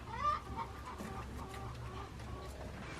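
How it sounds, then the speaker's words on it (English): A hen clucks softly in short repeated calls near a chicken coop on a farm, fairly faint and a little distant, with no talking. "there's a hen going in there checking it out"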